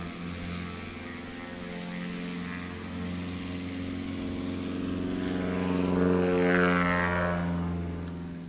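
A light backcountry-class plane powers up for a short takeoff from a grass strip, its propeller engine a steady, droning hum that swells slightly toward the end, with no talking.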